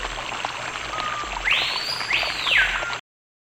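Running water from a forest stream forms a soft steady murmur under a bird's rising whistled calls, ending abruptly in silence after about three seconds.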